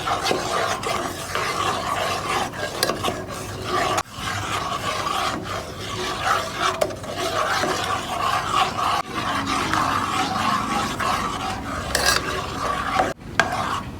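A spoon scrapes and stirs a thick mawa roll mixture of milk powder in a pan over a switched-off stove. The rasping strokes come close and steady, with brief pauses between them and no talk.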